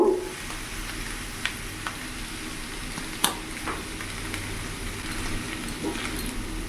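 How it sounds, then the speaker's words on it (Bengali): Boiled chowmein noodles tossed into a hot frying pan for Chinese-style cooking: a continuous close sizzle with a handful of sharp clanks and scrapes from the utensil, spaced irregularly, no voices. "এখন এরই মধ্যে সেদ্ধ করা চাউমিনটা আমি পুরোটা দিয়ে দেবো।"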